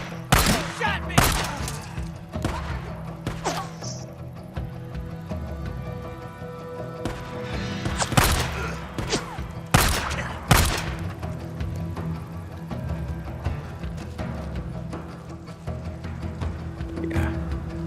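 Gunfire in the video game Days Gone: scattered sharp shots and thuds burst out irregularly over a busy, rumbling game soundscape, several loud cracks clustered around the middle, without clear speech.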